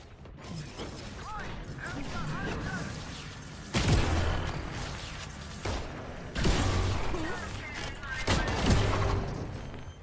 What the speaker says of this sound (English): Oh, everybody's missing their shots, but not Soren!